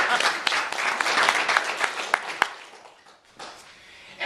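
An audience at a talk breaks into applause, a dense burst of clapping that thins out and fades, then a few scattered claps return briefly.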